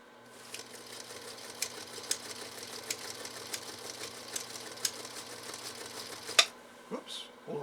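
Singer Featherweight sewing machine stitching through two layers of elk hide, a quiet rapid mechanical whir with a low hum, punctuated by sharp regular clicks, ending in a louder clunk and a brief pause.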